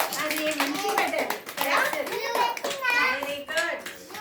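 Children clap their hands during a classroom alphabet activity, the claps scattered and fairly close, mixed with ongoing kids' voices and adult talk throughout.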